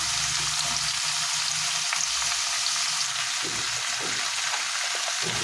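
Pumpkin and pointed gourd sizzle steadily in a pan and are stirred for a Bengali chanchra with fish head; a loud, continuous close-up frying hiss with soft scraping, no voices.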